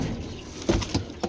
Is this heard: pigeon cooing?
yes